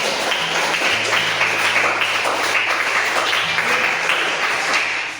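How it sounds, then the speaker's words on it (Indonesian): An audience at a coding and artificial intelligence training session applauds, with loud, continuous clapping from many hands sustained for about five seconds over a faint low hum, with no voices. "Tepuk tangan untuk kalian semua sekali lagi."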